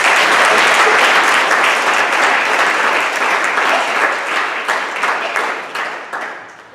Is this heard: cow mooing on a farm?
no